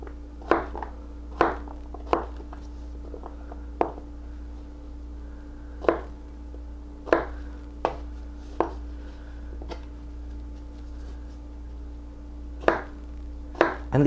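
A knife chops potatoes for hash browns on a cutting board, sharp isolated thunks landing at an irregular pace, some in quick pairs, over a faint steady background hum with no speech.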